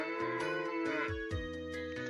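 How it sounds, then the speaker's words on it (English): A cow moo sound effect from the video game Breath of Fire III, a short pair of synthetic lowing calls, each falling in pitch, played clearly with no talk. "I love that they take the time to put in a cow sound.wav."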